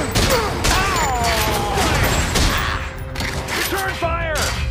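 Rapid gunfire from the arcade shooter Time Crisis 5, played with a lightgun, crackles continuously under shouted in-game voice commands and whooshing effects, loud and busy throughout.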